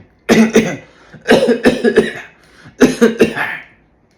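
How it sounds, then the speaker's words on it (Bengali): A man seated nearby on a local train coughs in three separate loud bursts, each a cluster of rough harsh hacks, close to the listener with short quiet gaps between. "পাশে বসা কাকা মাঝে মাঝেই কাশছেন"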